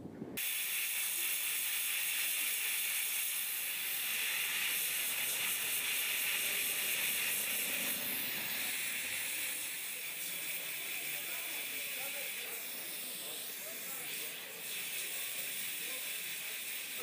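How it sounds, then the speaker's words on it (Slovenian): A steam cleaning machine, of the kind used by commercial building cleaners, hisses in a loud, continuous rush throughout, with brief mechanical rattles now and then. "Te naše mašine delujejo na bazi pare."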